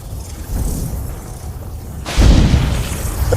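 A bomb explodes in a Roblox game, a sudden broad boom that bursts in about two seconds in and rumbles on loudly to the end, following a stretch of muffled game noise.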